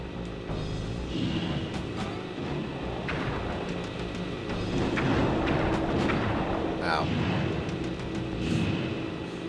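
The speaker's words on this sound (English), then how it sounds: "press the square button to fire its turret" Vehicle turret firing in the Sly 2: Band of Thieves video game, a run of sharp booming shots at uneven intervals over a steady rumbling game backdrop.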